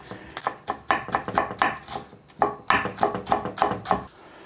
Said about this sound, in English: All we need to do is fine dice these spring onions.